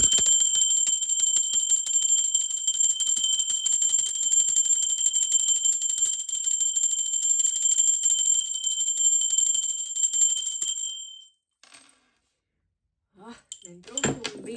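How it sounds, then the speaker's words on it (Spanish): A sustained, shimmering bell tone rings steadily for about ten seconds, then cuts off into near silence before faint rustling sounds. "Ahora sí va campana."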